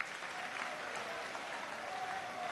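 An audience at a political congress of communicators applauds to welcome a speaker, a dense, even wash of clapping, moderately distant, with no talk over it.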